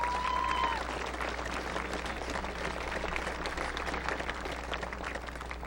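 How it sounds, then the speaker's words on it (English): Applause from a crowd in a stadium at a 1997 college football game, BV versus Dana, for the parents present, a dense, steady clapping that holds evenly from start to finish. "let's give all our parents a round of applause"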